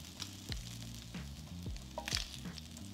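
Seared food sizzling in a hot heavy-based pan, a soft steady frying hiss with a few brief scrapes and clinks of a utensil, heard up close without talk.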